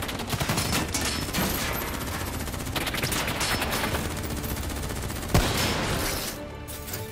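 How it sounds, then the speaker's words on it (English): Sustained rapid gunfire from a video game battle rattles on as dense overlapping bursts, loud and close, with one sharper blast near the end. "Who's shooting?"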